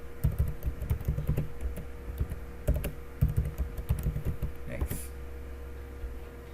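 Computer keyboard typing a password in short bursts of crisp, close key clicks separated by brief pauses, with a couple of louder single taps toward the end.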